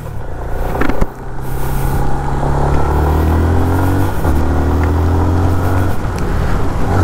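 Engine of a Yamaha FZ25 motorcycle during a tight U-turn maneuver, a loud, close steady drone that shifts pitch as the throttle changes, with a brief dip and thump near the start and no talking.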